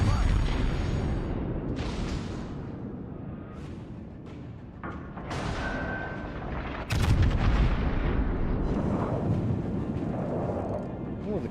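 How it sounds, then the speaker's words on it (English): Heavy naval gunfire from the video game World of Warships: Legends, deep booming salvos and rumbling explosions over a steady low roar, with a loud burst near the middle and a voice speaking at times. "Started firing at us."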